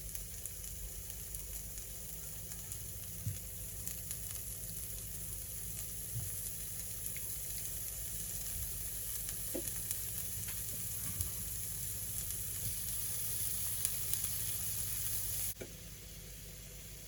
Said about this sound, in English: make sure your pan is nice and hot, because you want to seal the meat, you want to brown the meat